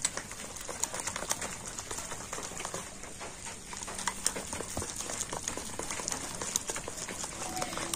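Pitha batter with baking powder being stirred in a bowl gives off continuous soft wet patter and clicking spoon taps, steady and close, with no voice over it.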